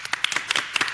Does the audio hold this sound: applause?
yes